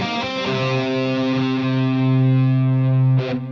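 Electric guitar played through a Fractal Axe FX using the Big Hair amp preset with an 80s-style tone: a sustained distorted chord ringing out loud with chorus shimmer, then a short pick scrape near the end.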